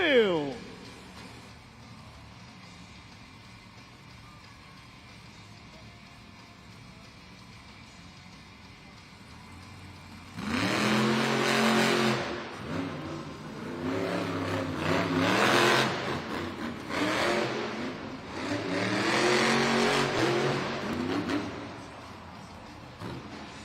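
The Just Get Her Done 2 monster truck at a Monster Jam arena event revs its engine with loud, rising bursts of roaring revs. A crowd murmurs and an announcer speaks in the background.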